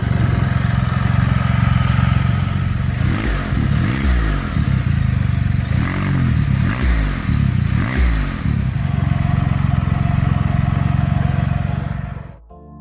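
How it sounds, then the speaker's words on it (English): Polaris Slingshot-style trike running an engine with an ECU reflash, a loud, steady throaty exhaust drone with a few rhythmic revving swells in the middle before cutting off abruptly at the end. "the ECU reflash has improved the sound of the trike"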